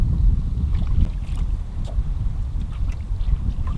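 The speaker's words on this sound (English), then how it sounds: "This wind out here today is absolutely killing me." Wind gusts across a lake and buffets the microphone while someone fishes for crappie from a boat. The roar is loud and steady, with no talk.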